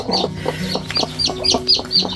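A crested chicken clucks close by with others in a quick, busy series of short calls, with no talking.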